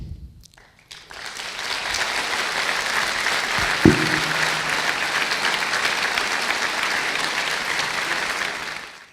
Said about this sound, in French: mais des applaudissements, car c'est sans doute ce qu'elle aurait aimé